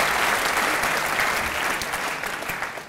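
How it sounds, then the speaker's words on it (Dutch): Comedy show audience applauding for a woman named Lianne, loud, dense clapping from a full room that carries evenly and tapers slightly toward the end. "ze mag een applaus voor Lianne"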